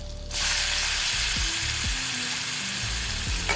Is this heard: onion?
yes